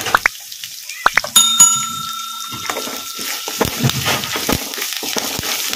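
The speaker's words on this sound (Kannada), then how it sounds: "ಉಳ್ಳಾಗಡ್ಡಿನ ಲೈಟ್ ಬ್ರೌನ್ ಕಲರ್ ಬರೋವರೆಗೂ ಫ್ರೈ ಮಾಡ್ಕೊಂಬಿಡೋಣ" Chopped onions, green chillies and curry leaves hit hot oil in a pan with a sudden metallic clink, followed by continuous close sizzling and crackling spatter that carries on at an even level without talk.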